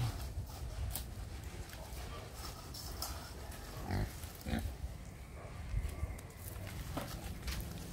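Pigs on a farm during strong wind, including a pregnant sow with a dislocated hip, giving low grunts and shuffling movements amid constant rustling noise, faint and somewhat distant.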